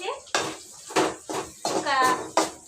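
Metal spoon scraping and clinking in a pan while stirring a panipuri noodle mixture with green chillies, several short rhythmic strokes close by with no talk.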